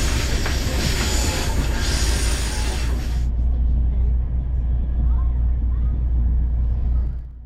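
Meter gauge passenger train rolling along a Brazilian railway, steady loud rumble of wheels and carriage with broadband rail noise that softens midway and fades at the end; no talk.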